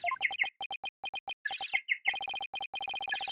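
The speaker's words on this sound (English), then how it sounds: "That's my ringtone." A bright electronic phone ringtone in a video game, rapid chirping beeps in quick repeated bursts with a few short pauses, cartoonish and birdlike, no talking.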